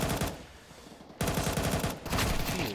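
Rapid gunfire rattles in a Counter-Strike 2 tournament match, dense bursts near the A bomb site with a brief drop between volleys, loud and continuous with no talk.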